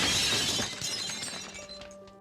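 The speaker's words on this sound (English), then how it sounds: "Windows shattered" Window glass shatters with a loud, bright crash right at the start, then shards tinkle and ring as they settle, fading out over a couple of seconds.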